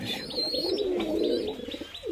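Rajshahi Giribaz pigeons coo steadily at a breeding farm, a soft continuous throaty warble with faint chirps above it and no one talking.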